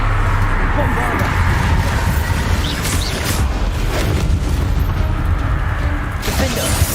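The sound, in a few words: Bombarda explosion spell from the video game Hogwarts Legacy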